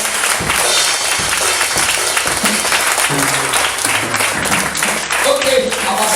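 A church congregation applauds and cheers at an Easter service, with a dense, continuous roar of clapping and crowd voices filling the room throughout.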